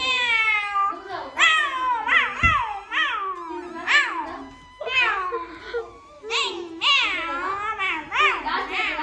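Someone repeatedly mimics a monkey with a string of high, wavering squeals and hoots, close and loud, some resembling cat-like meows.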